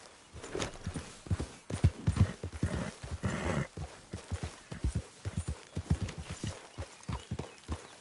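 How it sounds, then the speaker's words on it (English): Hooves clip-clop steadily at a walking pace in Red Dead Redemption 2, with a horse snorting and whinnying partway through, fairly close and without talk. "No horses in camp, Arthur."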